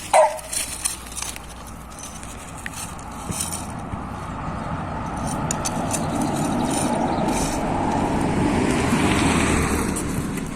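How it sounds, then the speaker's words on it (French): A car passes by outside near a park, its broad rushing noise swelling slowly over several seconds and peaking toward the end over a steady background hum. "On a entendu une voiture?"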